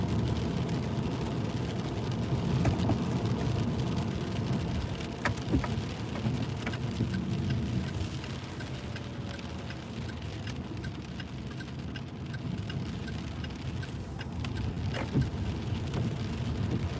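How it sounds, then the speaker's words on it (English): Rain falling on a car during an Uber shift, a steady patter on the body and roof with scattered louder drops, heard from inside the vehicle without talk. "But we got some rain going on here."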